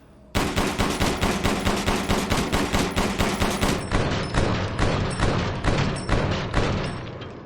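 Fully upgraded M1911 pistol in Resident Evil Village firing in a rapid, nearly automatic stream of loud, evenly spaced shots, about thirty over seven seconds, with a slight slowdown toward the end and no talk.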